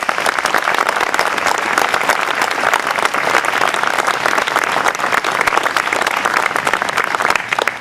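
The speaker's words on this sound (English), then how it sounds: "Please give our military a round of applause." A ceremony audience applauds the military with dense, sustained clapping from many hands, loud and even throughout with no gaps.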